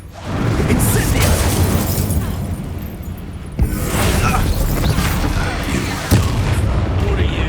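Incendio fire spell cast during a duel in Hogwarts Legacy, a loud blast with sharp bursts at about 3.6 and 6.1 seconds over dense, sustained combat noise.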